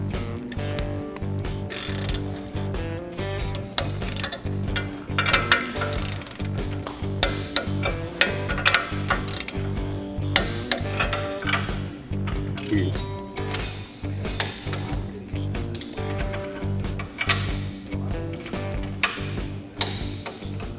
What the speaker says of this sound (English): We're going to torque these U-bolts to 80 foot-pounds